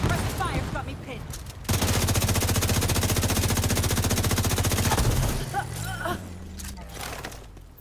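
Sustained suppressive machine-gun fire in a shooter video game, a rapid continuous burst of loud shots lasting several seconds, with a voice speaking over the fighting at times.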